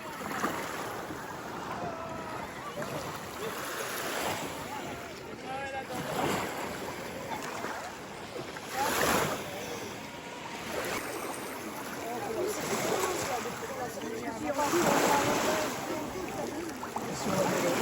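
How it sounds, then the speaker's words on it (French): Waves on a beach wash in and out in slow surges, moderately loud and steady with swells every few seconds, while people talk and move nearby throughout. "Nous sommes actuellement à la plage."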